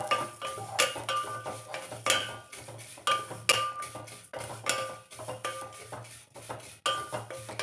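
Semiya vermicelli being roasted and stirred in a pan over a low flame for payasam, with steady metallic scraping and clinking of a spoon against the pan in irregular bursts, close and moderately loud.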